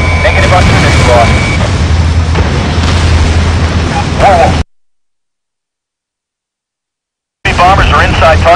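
Enemy aircraft blowing up in the combat flight game Ace Combat Assault Horizon, a loud rumbling explosion over dense engine roar and radio voices, cutting to silence, then resuming with more voice chatter.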